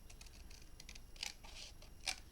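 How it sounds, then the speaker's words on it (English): Scissors snip through paper for a handmade mini album, making a quick series of crisp, close cutting sounds with no talking. "Get our scissors."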